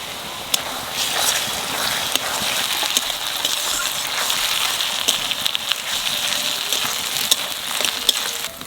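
Ginger garlic paste frying with browned onions in a pot for mutton curry, a steady close sizzle with scattered crackles and pops, continuous throughout with no talk.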